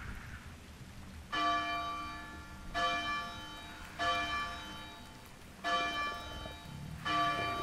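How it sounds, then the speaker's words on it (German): A church-style bell in ARK: Survival Ascended tolls five times at steady intervals, each stroke ringing out and fading over a soft rain-like background hiss. "Ich läute jetzt mal die Glocke."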